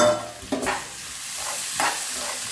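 Ginger, garlic and curry leaves sautéing in a home pan, a steady close sizzle broken by two brief stirring scrapes, with no talking.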